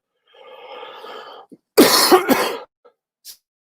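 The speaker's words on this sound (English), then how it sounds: "Excuse my cough." A harsh, loud cough burst close by, preceded by a low hummed throat sound, followed by a couple of faint clicks.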